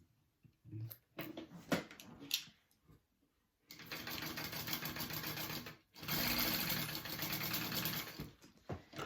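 Bursts of a few scattered clicks and taps, then a home sewing machine runs in two sustained, fairly loud stretches with a brief pause between them while stitching a 3/8 inch seam.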